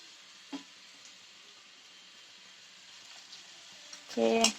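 Curry leaves dropped into hot oil while making nellipuli achar: a faint steady sizzle with a couple of small clicks, then a sudden louder crackling burst right at the end.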